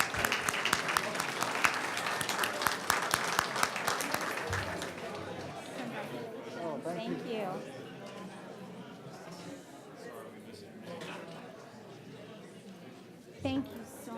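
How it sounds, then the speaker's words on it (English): Applause for a newly welcomed guest at a district police department board reception fills the room, dense clapping that starts loud and then thins into crowd chatter and scattered claps. "Let's give him a big round of applause."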